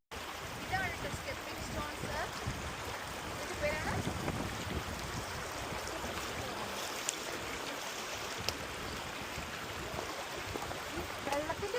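Stream water flowing along a hiking trail at Dovedale, a steady broadband rush that continues without a break and sits close and moderately loud.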